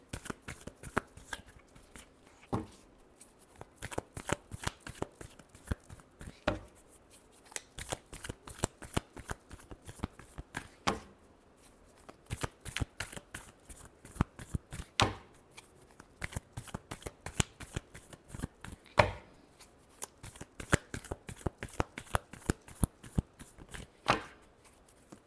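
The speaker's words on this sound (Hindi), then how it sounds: "Last shuffle." Playing cards are shuffled again and again for a tarot love reading: a long, close sequence of sharp riffling snaps and slaps in uneven bursts with brief gaps, with no voice.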